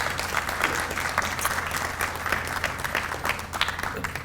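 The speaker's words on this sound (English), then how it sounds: "I'd like to give her a little applause" Audience applause at a levy renewal press conference, a steady wash of clapping filling the room at moderate loudness with dense, even texture throughout.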